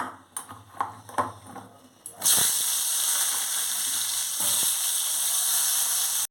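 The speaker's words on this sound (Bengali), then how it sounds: "প্রথমে আলু পটলটা ভেজে নিচ্ছি" Potatoes and pointed gourd go into a hot wok: a few clattering knocks, then a sudden loud, continuous frying sizzle that holds steady to the end.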